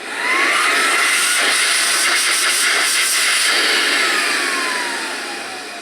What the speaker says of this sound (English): That's a healthy pump right there. Puts out a lot of air.